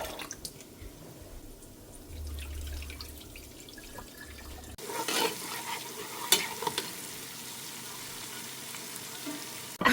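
Onions fry in oil in a pan for a Gambian red benachin with beef, a low, steady sizzle with occasional stirring clatter, faint throughout.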